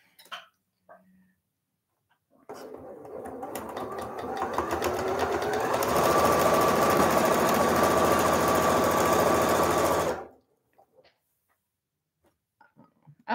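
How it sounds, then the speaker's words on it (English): Home sewing machine test-stitched without thread while piecing a quilt block, whirring steadily for about eight seconds as it speeds up, then stopping abruptly; faint handling noises before and after. "test run, I always like to, you know, sew down one side without any thread"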